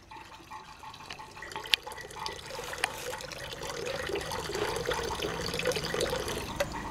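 Settled lime water poured into an organic fertilizer mixture, a steady close trickling and dripping of liquid with scattered small splashes, continuing alone without talk.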